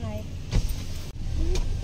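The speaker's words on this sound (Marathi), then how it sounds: "तर आता आमची गाडी निघाली" Inside an Ola taxi car as it pulls away, with a low steady engine and road rumble and people talking over it.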